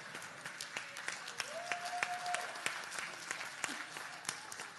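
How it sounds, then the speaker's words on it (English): An awards audience applauds, a crowd's clapping with several sharp, louder claps close by and a brief tone or faint voice sounding through the middle. "can we have a round of applause for all the women in our lives?"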